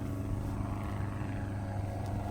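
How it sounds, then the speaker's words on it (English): A propeller plane flies overhead above a remote wild hiking area, a steady, continuous engine drone that holds at a moderate level and never fades out. "And when I heard the plane get louder and louder"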